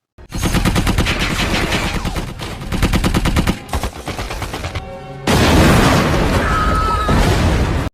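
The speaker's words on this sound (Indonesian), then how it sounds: "Namun naasnya, Thomas tertembak, sedangkan ia sudah menyalakan bom." Heavy war-film battle sound: sustained rapid machine-gun bursts roar loud and dense, briefly broken, then a massive bomb explosion erupts into a long rumbling blast.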